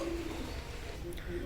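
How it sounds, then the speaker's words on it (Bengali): A pure teddy pigeon coos in short low, steady phrases at the start and the end, close by, with faint voices in the background. "অ্যাভেলেবেল আছে এই কবুতরটা, দিতে পারবে এই কবুতরটা"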